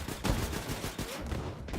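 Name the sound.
gunfire from super soldiers in Wolfenstein 2 video game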